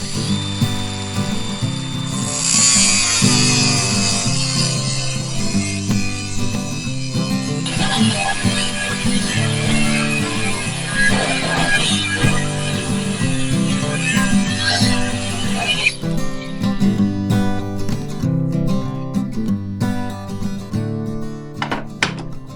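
A loud, continuous grinding and whine of an angle grinder cutting thick steel, sustained for the whole stretch with a shift in pitch partway through, then cutting off near the end.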